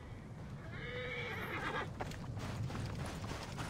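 A horse in the video game Assassin's Creed: Origins gives one clear, rising whinny over a steady outdoor game ambience, followed by soft hoof clip-clops.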